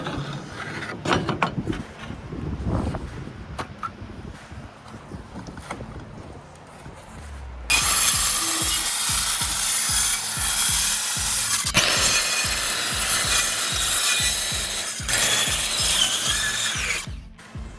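Power saw cutting wood for a quail pen, starting with scattered handling knocks and rubbing, then a loud sustained whining cut for about ten seconds with steady rapid rattling underneath, close by and without talk.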